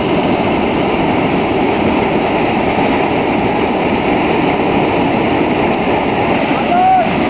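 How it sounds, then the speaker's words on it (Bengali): The Nafakhum waterfall roars as a steady, loud, dense rush of falling water over slippery rocks, continuous and unbroken throughout. "এই নাফাখুম ঝর্ণা, প্রচন্ড শব্দ, পাথরগুলো খুবই পিচ্ছিল।"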